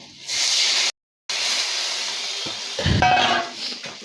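Water splashes into a hot pan of fried potatoes for an aar fish and potato curry, giving a loud, steady hiss that briefly cuts out, then turns into bubbling, spattering sizzle near the end. No talking.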